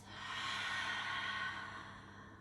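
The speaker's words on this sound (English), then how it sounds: "This time you can exhale through the mouth." A long, steady breath pushed out through the mouth during a yoga class, a soft airy rush that swells and then fades over a couple of seconds, heard close and alone with no talking.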